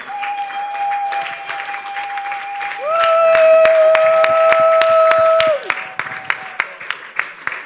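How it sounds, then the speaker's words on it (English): Audience applause at the First Caribbean Global Awards 2023 ceremony, steady clapping from a crowd with sustained tones running through the middle, tapering into scattered separate claps at the end. "keep the applause going."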